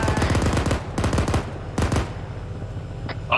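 Bursts of machine gun fire in the video game Arma 3: three rapid rattling strings of shots, each lasting a fraction of a second to half a second, with a quieter background and a faint distant shot near the end.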